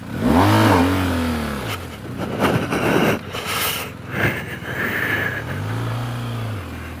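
A BMW GS adventure motorcycle revs and pulls away at the start of a GS Trophy UK qualifier challenge, a rising engine note up close, then rough off-road rumble and another rising rev near the end.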